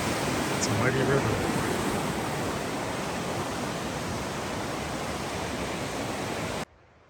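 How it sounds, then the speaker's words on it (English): A mighty river flows beneath a bridge on a spring trail hike, its steady broadband rush filling the air evenly and close by, cutting off abruptly near the end. "It's a mighty river."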